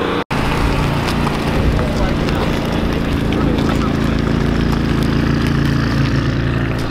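A Ford Mustang Shelby GT350 at a Cars and Coffee meet in Denver roars loudly and continuously close by, a harsh wide engine and exhaust blare that fills the whole stretch after a brief dropout.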